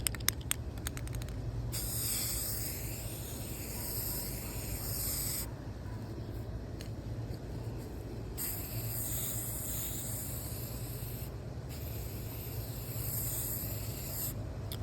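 Aerosol spray paint from a shaken can coats a Dollar Tree bird bath made over from black, giving a steady close hiss that runs through most of the stretch in several long bursts with short pauses between.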